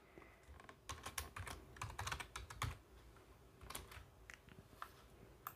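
Typing on a computer keyboard, with quick irregular bursts of keystrokes and short pauses, close and fairly quiet, without speech.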